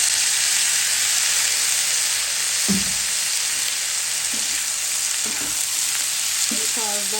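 Yardlong beans with onion and turmeric powder fry steadily in a pan, giving a continuous loud sizzle with a few soft clinks and stirring scrapes on top.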